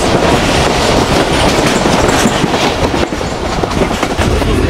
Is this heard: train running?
yes